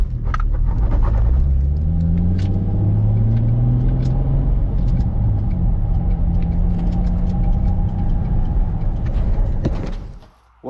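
A worn Nissan 350Z on a test drive gives a loud, close engine rumble inside the car. Its pitch rises and falls through the gears before cutting off at the end.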